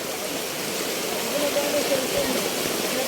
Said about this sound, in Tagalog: Ang lakas na ng tubig,